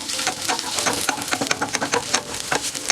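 Cumin, pepper, garlic and dried red chilli paste frying in hot oil while being stirred, giving a steady close sizzle with scattered crackles and spatula scrapes throughout, no talking.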